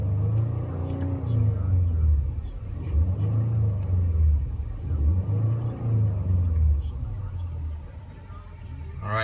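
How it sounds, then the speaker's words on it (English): A 2016 Ford Explorer Sport with a 3.5L EcoBoost twin-turbo engine on a test drive, giving a low cabin rumble that swells and eases in repeated waves as it accelerates. "Okay, so driving the new 2016 Ford Explorer Sport"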